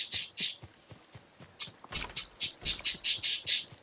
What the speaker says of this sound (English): Them birds wildin'.